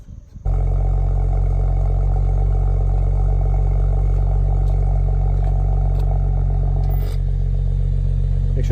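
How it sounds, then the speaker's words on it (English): A BMW N55 engine fitted with a valved exhaust cranks and catches, then settles into a loud, steady, deep idle that drones on close by, with a few faint clicks near the end. "go ahead and start the car up."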